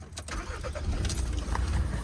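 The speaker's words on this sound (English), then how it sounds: "Now we're going to start the car." A car engine cranks and starts, building into a steady low rumble of idling close by, with a faint metallic jingle near the start.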